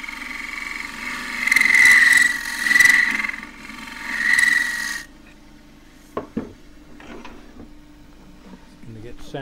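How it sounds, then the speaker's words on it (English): A power disc sander with 180 grit paper works a eucalypt burl, giving a loud whining rasp that swells in three surges and then stops. Faint clicks and quiet handling noises follow. "180 grit on the disc. The advantage of using the power sander is that I can control the thickness better"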